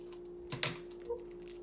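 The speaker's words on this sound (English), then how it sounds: "So I'm gonna grab my other packet here of glitter, okay? And I'm gonna cut it open." A plastic packet of craft glitter cut open with scissors: two quick, crisp snips close together over a low steady hum, followed by a faint short rustle, with no voices.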